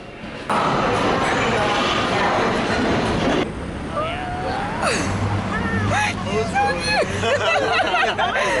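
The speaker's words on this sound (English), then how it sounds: "We hopped off on Larmer on the L train." Rumbling ride aboard a New York L subway train in Brooklyn, a steady loud roar of the car with squealing, screeching wheel tones rising in the second half, and voices chattering faintly underneath.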